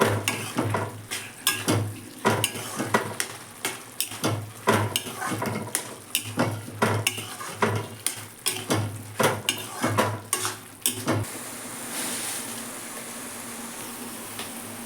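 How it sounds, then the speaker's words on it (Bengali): Taro leaves cooked with a hilsa fish head are stirred in a pan, a spoon scraping and clacking in a steady rhythm of close, sharp strokes over a soft sizzle, then stopping as the frying hiss carries on alone. "নাড়তে হবে এটাকে কচু শাককে একটু শুকনো শুকনো করে নামাতে হবে"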